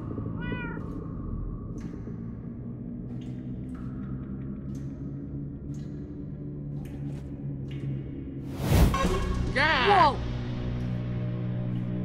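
Cats meow several times in the Minecraft Story Mode video game, with a short meow early on and a louder burst of meows near the end, heard over a steady game music and ambience bed.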